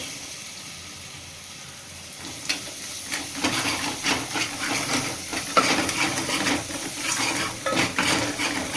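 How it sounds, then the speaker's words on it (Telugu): A spoon scrapes and clinks steadily against a pot while turmeric is mixed into pepper rasam, with a soft sizzle of cooking underneath. "పసుపు వేసారండి, మిక్స్ చేస్తున్నారు."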